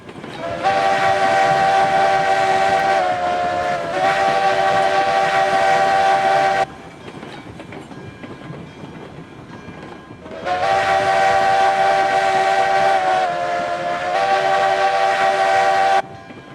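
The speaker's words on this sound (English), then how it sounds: "Whistle." A steam locomotive whistle in Railroads Online sounds loud and close in two long, tonal blasts, each with a brief pitch dip, separated by a quieter stretch of rolling train noise.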